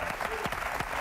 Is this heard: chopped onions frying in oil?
no